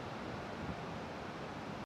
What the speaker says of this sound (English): I think it's a waterfall.